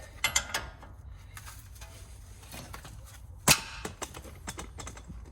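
Metallic clicks and sharp ratcheting snaps come from a wrench working loose the tie rod end nut on a Mercedes ML320, scattered close-up bursts with one louder crack midway.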